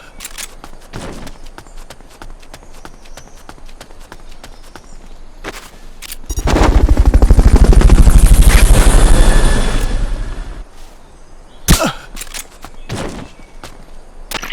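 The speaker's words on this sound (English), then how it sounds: "Fulton Recovery helicopter is complete." The Fulton Recovery helicopter in Metal Gear Solid Peace Walker swells in as a loud whooshing roar for about four seconds before cutting out, with sharp clicks and thuds scattered before and after.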